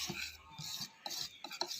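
Spoon stirring soufflé pancake batter with flour in a bowl, a soft rhythmic scraping and rubbing repeated in several close strokes with brief pauses between them.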